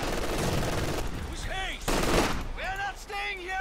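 Machine gun fire from the Company of Heroes 2 strategy game crackles in rapid bursts, mixed with other battlefield sounds and a few sweeping tonal effects, in short dense clusters.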